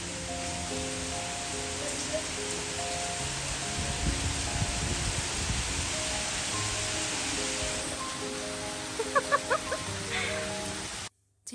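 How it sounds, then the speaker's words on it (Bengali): Steady rain falls outdoors as a dense, even hiss, with drops pattering on surfaces and faint rustling. A musical tone sits underneath, and a few sharp taps come near the end before the sound briefly cuts out. "আজকে বাহিরে রহমতের বৃষ্টি হচ্ছে"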